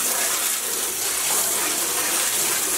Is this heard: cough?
no